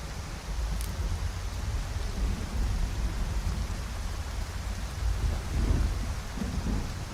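Steady rain falls in the video game Skyrim, a dense continuous hiss with a low rumbling undertone, holding an even level throughout with no voices.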